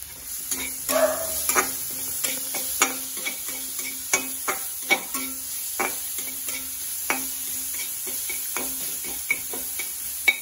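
Cumin and bay leaf powder sizzle in hot oil in a pan, a steady close frying hiss broken by repeated light clicks and taps of a stirring spoon against the pan.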